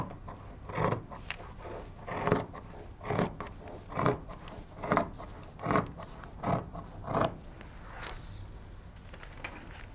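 Steady rhythmic snips of scissors cutting fabric pieces for a blouse, about eight even, close, crisp strokes in a row with a fabric rasp, then a brief pause.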